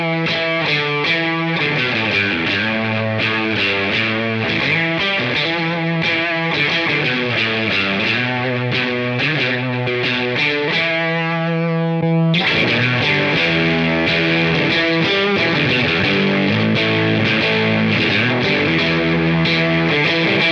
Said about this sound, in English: you end up with a nice, really thick fuzz sound.